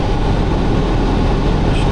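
Train rolling past a station in Koto City, south Tokyo, heard as a loud, steady low rumble and roar that fills the whole stretch with no break.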